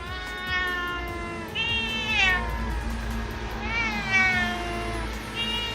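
A cat meows repeatedly and loudly up close, drawn-out wavering cries with a harsh, caterwauling edge, several calls in a row with short pauses between.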